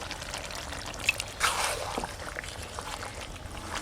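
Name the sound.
water poured into chicken kosha for gravy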